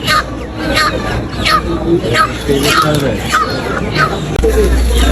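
Chickens at a market cluck repeatedly in short rising calls, close by, over a busy hubbub of voices and people talking nearby.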